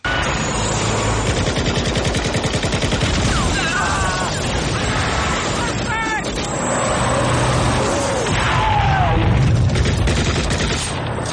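Loud, dense bursts of gunfire and explosions from the film Rambo III run continuously, with rapid automatic fire, booming blasts and scattered shouts.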